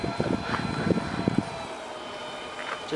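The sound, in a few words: RC Airbus A330 model airplane flying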